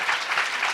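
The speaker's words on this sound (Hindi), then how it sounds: "Come on, clap your hands and praise the Lord." A church congregation claps hands in praise during a worship service, a dense steady patter of many hands close by, rising and falling in waves with no talk over it.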